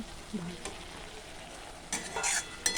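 Soaked soybean chunks hit a frying spice paste and get stirred, making a soft constant sizzle that swells into bursts of hissing, scraping spoon movement near the end.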